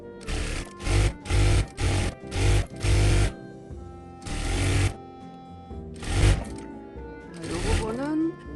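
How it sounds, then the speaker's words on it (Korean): A sewing machine stitches along the edge of a welt pocket in a quick series of short loud bursts, then a few longer runs after pauses, with a voice speaking briefly toward the end. "박음질 해주세요."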